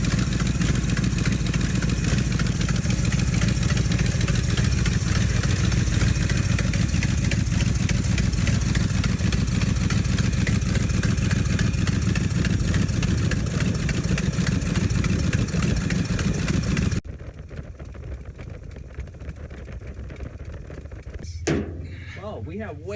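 A 1967 Ford F250 camper special engine idles loudly and unevenly up close for about seventeen seconds, then is shut off abruptly, leaving a low background and a brief clunk near the end.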